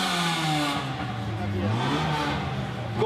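A four-cylinder car engine at an Omega club meet in Rio Preto revs up and down in rising and falling sweeps. It sits at a moderate distance, with people talking over it.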